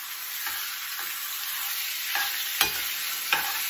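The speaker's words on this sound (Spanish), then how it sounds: "Y ahora vamos a agregar el pollo." 500 grams of chicken sizzling and searing in a hot pan over lowered heat, a steady broadband fry with a few sharp utensil clicks and scrapes scattered through, close and unaccompanied by voices.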